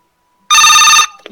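A telephone rings once, loud and bright, as a caller comes through on a Thai Buddhist dharma radio phone-in, followed by a brief bit of line noise.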